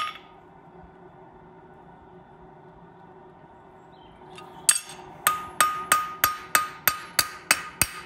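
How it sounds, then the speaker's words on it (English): Hammer striking a hot steel horseshoe on an anvil to round off its sharp inside edge: after a quiet stretch, about a dozen sharp, ringing metallic blows come in a steady, even rhythm, close and loud. "we just need to take that sharp inside border off with a round side of our hammer"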